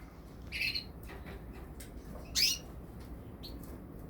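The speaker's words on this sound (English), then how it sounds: "Lovely pink-eyed cock, lutino, all the way from Belgium." A pink-eyed lutino canary cock from Belgium, a former show bird, gives two short, sharp chirps a couple of seconds apart, then a faint third, over quiet background hiss.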